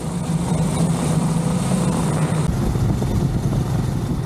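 Motorcycle on a morning road ride out of Ranchi toward Palamu, India, a steady broadband engine and wind roar holding level throughout with a low droning hum, close and continuous.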